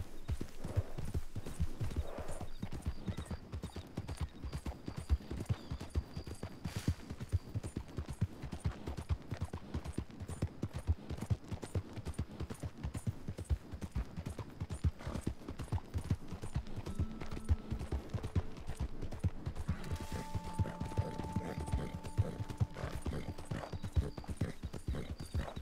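Hoofbeats of a galloping horse in a video game, a steady rapid clip-clop that runs loud and close throughout, with a brief whinny and some faint background effects.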